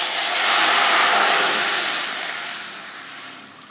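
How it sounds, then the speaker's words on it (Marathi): Two cups of water pour steadily into a pan with a rushing hiss that swells and then gradually tapers off, with no talking. "आपल्याला 2 कप याच्यात पाणी घालायचं आहे"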